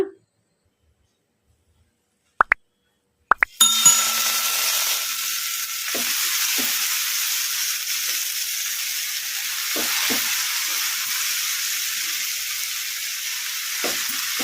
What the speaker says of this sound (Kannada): ಈಗ ಇದಕ್ಕೆ ನಾವು ಕಟ್ ಮಾಡಿ ಇಟ್ಕೊಂಡಿದ್ವಲ್ಲ ಪುಂಡಿ ಪಲ್ಯ, ಈಗ ಇದನ್ನು ಹಾಕಿ ಫ್ರೈ ಮಾಡ್ಕೊಂಬಿಡೋಣ